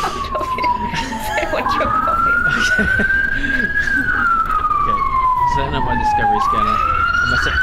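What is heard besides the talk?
space police siren in the video game Elite Dangerous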